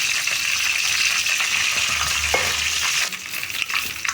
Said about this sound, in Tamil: கடுகு பாரு நல்லா பொரியுது.